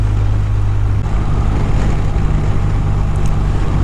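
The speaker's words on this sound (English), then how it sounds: "there's always wind noise" Wind roars steadily around a rider on a BMW R 1250 RT motorcycle, blended with a low engine drone. The rush stays loud and even the whole time, with no talking.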